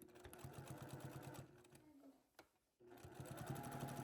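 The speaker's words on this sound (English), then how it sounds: "Now we're going to turn our quilt all the way around and continue sewing around the quilt." Sewing machine stitching around the edge of a quilt, a steady fast mechanical chatter that pauses briefly mid-clip as the quilt is turned, then resumes at full pace.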